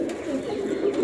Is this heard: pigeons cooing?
yes